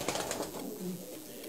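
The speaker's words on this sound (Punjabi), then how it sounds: "ਇਹ ਲੱਕੇ ਕਬੂਤਰ ਆ ਮੇਰੇ ਫੇਮਸ" Lakka pigeons coo softly and faintly, a brief low murmuring call heard alone with no talking.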